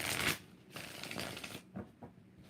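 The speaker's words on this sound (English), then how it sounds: "I got to get one more shuffle" A deck of tarot cards is riffled and shuffled by hand in two or three quick bursts of flicking and slapping, close and clear, with no talking over it.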